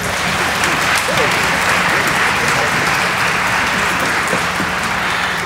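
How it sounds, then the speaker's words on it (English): Sustained applause from a ceremony audience at Hampton University's Founders Day, a dense, steady wash of clapping that fills the whole stretch at full volume, with faint voices mixed into the crowd. "Let's give them another round of applause."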